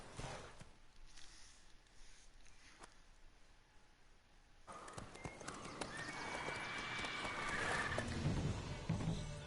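A horse gallops in the video game Witcher 3, with rhythmic clip-clop hoofbeats that grow louder and denser in the second half, over a soft background of game ambience.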